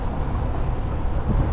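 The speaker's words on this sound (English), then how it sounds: "dive boat going out with no one aboard" Low rumbling engine noise of an empty dive boat heading out and passing by, steady and broad, mixed with wind buffeting the microphone.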